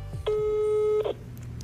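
A single steady telephone voicemail beep, a clear mid-pitched tone lasting about three-quarters of a second, sounds alone over a quiet low hum.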